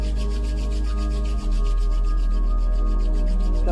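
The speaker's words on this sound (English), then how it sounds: "Now bring your hands together," Two hands rubbing together briskly for warmth, a steady dry swishing friction that runs throughout at close range, with a brief dip midway and no talking.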